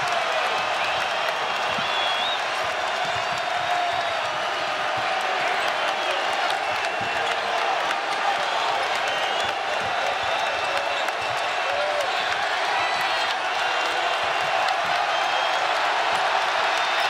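Crowd at a college basketball game between Tennessee and Louisville roars steadily during full court pressure, a loud, sustained arena din with scattered claps, squeaks and ball thumps beneath a commentator's voice.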